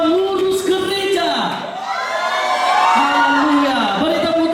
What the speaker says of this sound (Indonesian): Beri tepuk tangan buat anak-anak Tuhan.